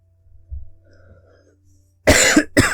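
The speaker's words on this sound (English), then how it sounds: "Sorry, just clear my throat." A man clears his throat during a game session: one short, harsh, close burst followed by a second brief rasp, after a quiet stretch with faint background sound.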